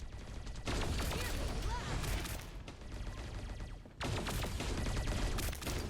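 Rapid gunfire bursts in the video game T3 Arena, dense and loud, with a short lull before the shooting resumes.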